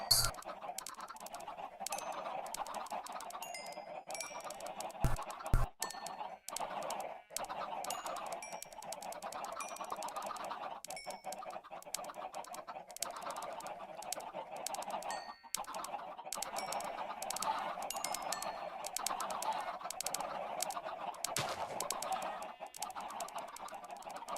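Chickens clucking steadily in the Minecraft video game, a dense overlapping flock of fowl calls continuing throughout with a few sharp clicks, no talking over them.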